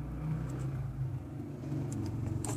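Road traffic rumbles steadily outside, a continuous low car engine drone with slight swells as vehicles pass, heard from indoors at moderate distance with no talking.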